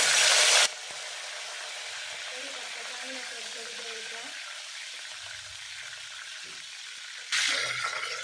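Bay leaves dropped into hot oil in a cooking pot give a steady frying hiss throughout, with louder bursts of spitting at the beginning and end while a voice talks quietly under it.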